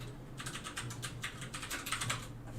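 Loud, rapid keystrokes on a computer keyboard, an irregular burst of sharp clicks and clacks that lasts a couple of seconds and plays alone with no talk.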